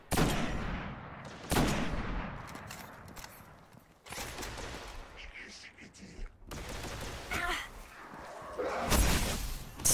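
Gunfire crackles through a Destiny firefight on PS4 in scattered volleys and sharp single shots spread across the moment. Brief bursts recur at intervals against a busy game-sound background.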